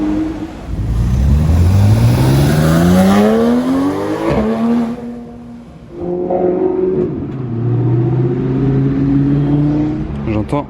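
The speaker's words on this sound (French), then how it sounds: "J'entends une voiture monter." A powerful V12 car engine revs and climbs in pitch as it approaches, drops briefly, then roars up again, loud and close.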